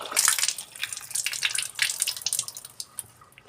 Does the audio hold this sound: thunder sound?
no